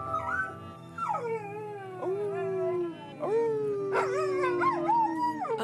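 A dog whimpers and howls in long, wavering, rising and falling cries, several drawn-out calls in a row, close and clear with no talking.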